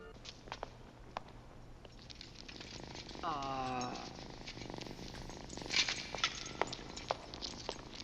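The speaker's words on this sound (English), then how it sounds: "Why is the spider purring like a cat?" A spider creature in the 1985 film Red Sonja purrs like a cat, a rapid rattling purr of about a second set among candle-lit ambience and scattered clicks, moderately loud with no speech over it.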